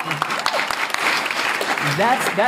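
Brief burst of audience applause at a live talk event, clapping mixed with a few cheers and voices over the crowd noise.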